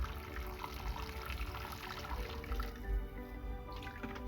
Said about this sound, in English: Don't forget to water guys.